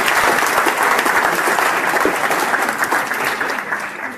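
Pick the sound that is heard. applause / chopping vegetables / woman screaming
applause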